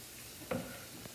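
A single scrape of a utensil stirring brown roux in a pan, over a soft, steady sizzle, with a faint second tap shortly after.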